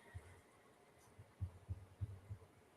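Steady heartbeat thumps pulse through a muted online voice call among a group of friends, five or six soft, low double beats spaced roughly evenly over a few seconds, faint and alone with no talking.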